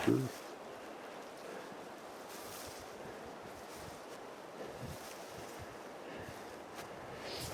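Cold wind blows by a river, a soft, low rushing gust with muffled buffeting on the microphone and a louder burst at the start, people talking faintly.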